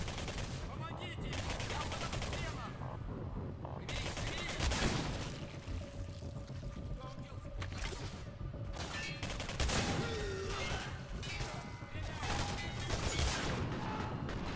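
Dense, sustained gunfire in the video game Singularity, rapid bursts in steady succession without a break, loud and close, forming a continuous barrage with no voices.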